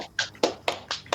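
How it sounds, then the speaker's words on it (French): Quiz players applauding themselves after the final round: five or six separate claps at an even beat, close and fairly loud, with no talking. "vous pouvez vous applaudir"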